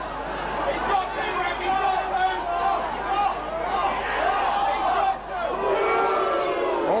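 Crowd noise from an FA Cup football match between Chester City and Boston United, with a steady murmur of spectators and scattered shouts swelling in waves beneath a commentator talking over it.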